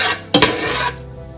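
A spoon stirs cardamom and cloves in a cooking pan for a quick, close stir: two sharp metal scrapes, then a short rustling swirl and a faint sizzle.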